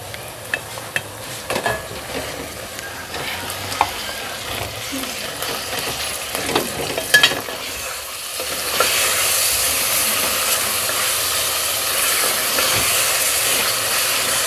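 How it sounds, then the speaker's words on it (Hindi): Minced meat fries on high heat in a pan for qeema matar, with scattered clinks and scraping of a spoon stirring it, then a loud, steady hiss and sizzle takes over for the last several seconds, with no talk. "मैं इसको तेज़ आंच पर भूनूंगी तब तक जब तक कि इस कीमे का कलर चेंज ना हो जाए।"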